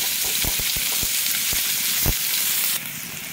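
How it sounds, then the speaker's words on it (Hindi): Sliced onion frying in a pan in a home kitchen, giving a steady, close sizzle with a few sharp taps of a spoon against the pan, and no talking. "तो उसके लिए मेरा अनियन देखिए फ्राई हो रहा है।"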